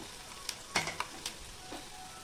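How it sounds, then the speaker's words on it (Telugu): Chicken pieces fry in oil for chicken pickle, a quiet sizzle broken by a few short stirring scrapes and clatters near the start, no talking. "చికెన్ ముక్కలను బాగా ఆయిల్ మంచిగా ఫ్రై చేసుకోవాలి."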